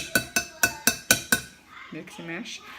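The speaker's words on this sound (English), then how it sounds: "I'm mashing some pretty ripe bananas." Ripe bananas are mashed in a bowl with a Mix 'N Chop tool, producing six sharp, evenly spaced clinks and knocks up close, followed by a short stretch of soft voice.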